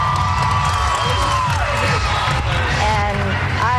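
A packed arena crowd cheers and shouts for a Maryland Twisters cheerleading team taking the stage, a loud, continuous roar of many voices with whoops and yells layered throughout.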